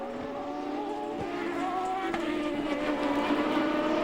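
A 2003 Newman Haas Racing Champ Car at Portland qualifying screams past, its engine a high sustained whine that climbs through gear shifts, loud and close with no voices.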